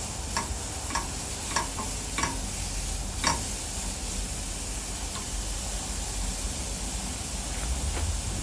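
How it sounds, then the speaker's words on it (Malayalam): Beetroot sautés in a pan for Kerala-style pachadi, with a continuous close sizzle and a few sharp stirring scrapes and taps spaced through it. "എന്നിട്ട് നന്നായിട്ട് സോട്ട് ചെയ്ത് എടുക്കുക. അത് സോഫ്റ്റ് ആവുന്ന വരെ സോട്ട് ചെയ്യണം"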